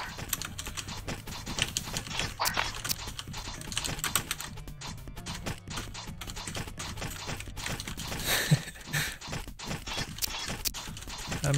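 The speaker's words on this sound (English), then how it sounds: "mashing direction keys" Direction keys on a computer keyboard are mashed in rapid, dense clatter during a game playtest, a continuous flurry of close plastic key clicks with no talking over it.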